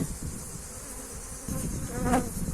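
Steady insect buzzing of honeybees hovering close by at a hive's pollen trap, a continuous drone that swells slightly louder in the second half, with no talking.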